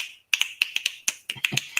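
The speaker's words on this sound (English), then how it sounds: "Doing the clacking of the fingers" Rapid run of crisp finger snaps, about a dozen sharp dry clicks in quick irregular rhythm, close and alone without talk.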